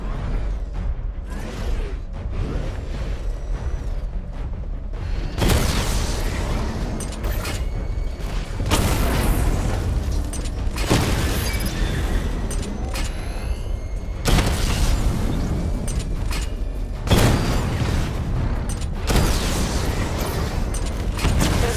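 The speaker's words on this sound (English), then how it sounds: "Charge up missile barrage to level 2 and destroy 4 active targets to complete diagnostic test." Missile barrage explosions in Batman: Arkham Knight boom loudly in several heavy bursts with whooshing and mechanical whirs between them, filling the scene with no talking.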